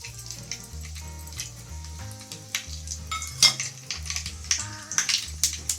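Asafoetida dropped into hot oil with popped mustard seeds in a pan, crackling and sizzling close by, the sharp pops growing busier over a low musical backing.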